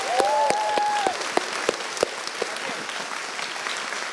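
Audience applause, a steady patter of many hands clapping at moderate volume with a few louder individual claps, carrying on through the whole stretch.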